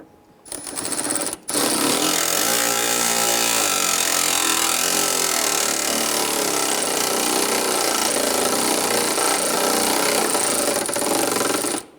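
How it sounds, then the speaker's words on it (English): A power tool runs steadily and loudly for about ten seconds, tightening fasteners on the front inner fender liner of a 1995-2001 Ford Explorer, after a brief start-up at the beginning, with no talking. "Now that we have those started, let's go ahead and tighten those down."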